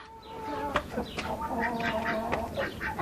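Chickens in a backyard coop cluck and murmur close by, with a few sharper squawks scattered through the steady soft chatter.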